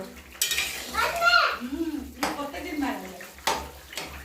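Cooking pot of boiled potatoes lifted off a stove, sharp metallic clanks and scrapes at intervals mixed with talking voices nearby.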